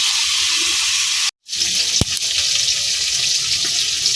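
Tap water runs steadily over pangas fish being rinsed clean in a village kitchen, a broad close wash of splashing broken once by a brief gap and a sharp knock.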